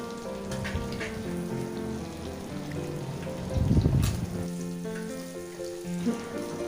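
Chopped onion, green chilli, ginger and curry leaves sauté in a pan with a constant hiss like steady rain, swelling briefly midway.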